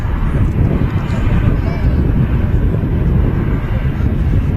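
Aircraft noise at Manchester Airport on a windy day, a loud continuous broadband roar of a nearby plane mixed with wind buffeting, with voices talking underneath.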